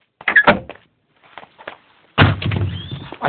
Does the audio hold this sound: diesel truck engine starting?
no